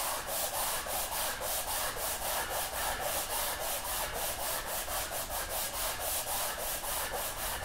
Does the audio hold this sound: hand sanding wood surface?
yes